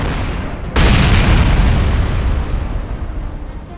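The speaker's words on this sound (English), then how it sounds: "An armored personnel carrier was detected in the same area and was destroyed by hidden mines." A hidden landmine blasts an armored personnel carrier in a sudden loud boom, following a brief quieter rumble, then a long roaring decay that slowly fades over several seconds.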